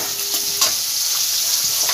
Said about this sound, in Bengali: ছোটো চামচের 1 চামচ আদা রসুন পেস্ট ভালো করে ভেজে নেব যতক্ষণ না কাঁচা গন্ধটা যাবে